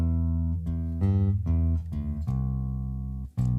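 Electric bass guitar plays a chorus riff variation: a run of sustained, close low notes changing pitch every half second or so, ending on one longer held note, with no voice.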